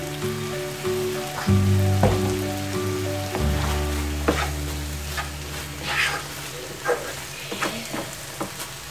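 Grated carrot for halwa fries in a pan with a soft, crackly sizzle and occasional stirring scrapes, while a low steady hum drones underneath.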